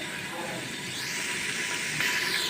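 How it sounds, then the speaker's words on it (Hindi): Ginger garlic paste frying over a high flame gives a continuous hiss and sizzle that holds steady, then grows slightly brighter near the end, with no talking. "जिंजर गार्लिक पेस्ट फ्राई होने लगा है।"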